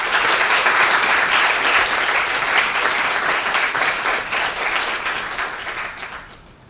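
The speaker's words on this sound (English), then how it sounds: "with a round of applause too?" An audience gives sustained applause, many hands clapping steadily at full volume before gradually tapering off toward the end.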